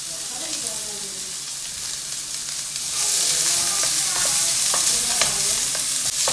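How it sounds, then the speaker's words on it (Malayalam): Onions sautéing in a pan with garlic and popped mustard seeds, a steady close sizzle that grows louder midway, with repeated stirring scrapes and clicks. "സവാള നന്നായി വഴറ്റണം."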